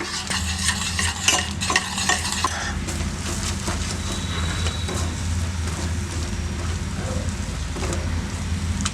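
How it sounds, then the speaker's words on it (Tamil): A pot of jaggery syrup with ginger boils with a steady, close bubbling hiss, and clattering stirring scrapes come early before the simmer continues evenly. "நல்லா கொதிச்சிருச்சு. இந்த நாட்டு சர்க்கரை எல்லாமே நல்லா கரைஞ்சிருக்கும்."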